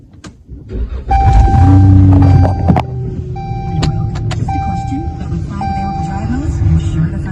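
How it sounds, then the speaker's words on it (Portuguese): A car that is on its fuel reserve is started and keeps running, with a loud crank into a steady engine drone and some tonal whines and clicks, while someone talks over it. "Vou ligar o carro aqui, galera."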